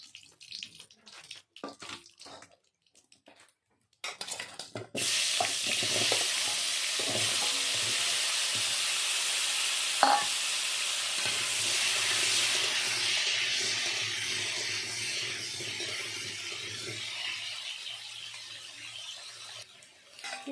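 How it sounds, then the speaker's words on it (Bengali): Potatoes hit hot oil in a pan used for frying cauliflower. Quiet clatter comes first, then a loud, steady hiss and sizzle bursts in and holds for about fifteen seconds. "এবার আমি ওই তেলে আলুগুলো ভেজে নেব"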